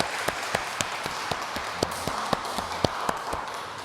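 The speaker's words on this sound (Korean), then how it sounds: "하나님께 큰 영광의 박수 한번 올려드릴까요?" A church congregation claps together in a steady, moderately close ripple of hand claps that carries on for a few seconds with no one speaking.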